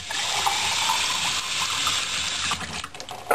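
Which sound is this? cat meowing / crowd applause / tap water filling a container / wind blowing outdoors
tap water filling a container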